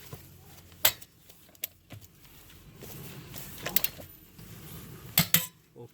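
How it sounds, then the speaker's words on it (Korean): Metallic clicks and clanks of a torque wrench tightening wheel bolts on a new Jeep Wrangler Rubicon, sharp ratchet clicks in small clusters over a low shop background. "차를 내리고 조여야죠."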